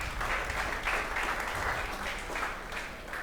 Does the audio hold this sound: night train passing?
no